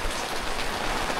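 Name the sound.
heavy rain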